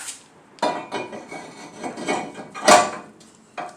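A steel brake rotor being set onto a Chevrolet front wheel hub, a series of sharp metallic clanks and scrapes with short pauses, one louder ringing knock near the end, close by and without talk.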